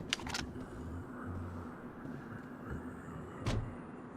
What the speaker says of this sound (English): Someone's got a car out the back.